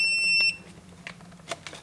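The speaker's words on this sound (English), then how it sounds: "So it beeped twice and we have a problem code." A Stacyc electric balance bike sounds a steady high electronic beep tone for about half a second, then falls quiet apart from faint clicks and handling noise.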